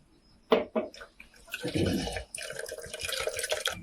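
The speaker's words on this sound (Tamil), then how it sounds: "வடிகட்டின்னு தேவையான அளவு தண்ணி கொஞ்சம் ஊற்றிக்கலாம்" Water being poured into a ground paste for pani puri water, set to be strained at home; a few short splashes are followed by a steadier, close pouring and trickling sound with no speech.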